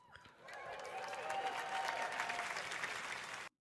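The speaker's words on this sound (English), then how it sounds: "I don't know why they clapping." An audience at a Google Pixel 8a demo breaks into applause, a dense crowd clapping that swells quickly, holds for a few seconds, then cuts off abruptly.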